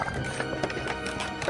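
A king's horse trots along with quick clip-clop hoofbeats over a busy, noisy background, the steps close and fairly steady through the short burst.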